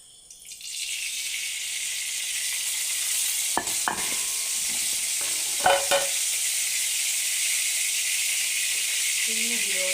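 Oil heats in a pan for a prawn curry, a bright steady sizzle rising after a quiet start and continuing evenly, broken by a few close clinks of a utensil.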